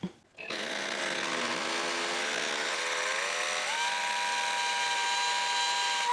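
A power drill bores holes into a concrete-backfilled wall at an Arizona homestead, giving a loud, continuous motor whine that rises in pitch early and then holds steady with a grinding edge.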